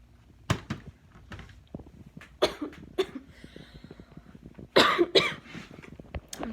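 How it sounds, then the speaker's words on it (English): A woman has a coughing fit, a series of sharp, close coughs in irregular bursts with short gasps between, loudest near the end. "I just got a cough attack."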